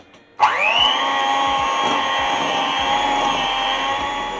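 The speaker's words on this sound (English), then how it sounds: "So back to the electric whisk again." An electric hand whisk starts up abruptly and runs steadily at a high whir while mixing carrot cake batter, loud and close, with light knocks against the bowl.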